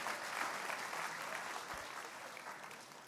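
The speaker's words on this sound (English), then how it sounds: "So let's give them a big round of applause." Applause from a theater audience at a live dance show, a steady dense wash of clapping hands that holds for about three seconds and fades slightly toward the end.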